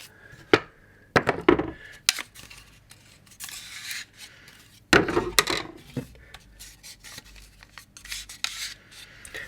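Close, dry wooden clicks, scrapes and rubbing from MDF luthier-style cam clamps being fitted and tightened, coming in irregular bursts with sharper knocks near the start and middle.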